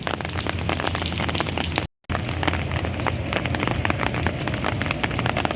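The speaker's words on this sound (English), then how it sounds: "It's just a steady rain at this point." Steady rain in the Phoenix desert after a dust storm, a dense, loud, continuous patter on surfaces close by, broken by one very brief dropout.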